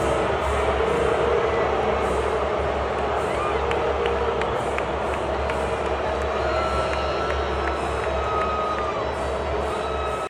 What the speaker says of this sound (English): Taylor didn't have many besties in the audience because they all booed her